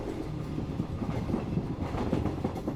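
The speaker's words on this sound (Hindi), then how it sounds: "दोनों चेन्नई एक्सप्रेस से सेकंड क्लास में बैठकर सफर कर रहे थे।" The Chennai Express train rolls along the rails with a continuous low rumble and rhythmic clickety-clack of wheels over joints, heard from inside the moving carriage, steady and fairly loud, without speech.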